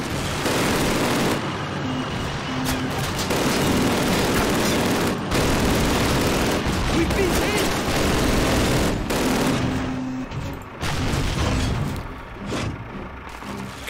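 Dense, loud gunfire from the 2003 Call of Duty game in a Poland level: continuous rattling automatic bursts and heavy shots pile up nearly nonstop, with only brief gaps, up close and overpowering.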